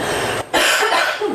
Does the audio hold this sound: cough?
yes